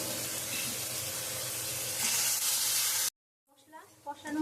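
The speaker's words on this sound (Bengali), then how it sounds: "মশলা কষানো হয়ে গেছে, তেল ছেড়ে দিয়েছে" Spices sizzle and fry steadily in hot oil with a splash of water while a banana-flower curry is cooked, a loud continuous hiss that cuts off abruptly, followed by quieter crackles.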